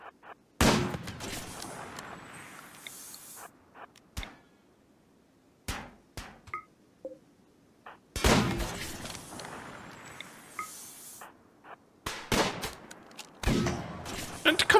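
Gunfire in the video game RimWorld, several sharp bursts and single shots separated by quiet gaps, loud and close.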